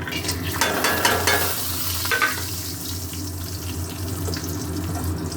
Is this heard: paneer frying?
yes